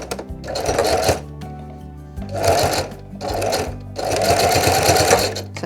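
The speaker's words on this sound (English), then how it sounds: "I'm going to sew across and then down." A sewing machine runs a zigzag stitch across fabric in three distinct bursts of fast, rattling needle strokes, close and loud, separated by short pauses.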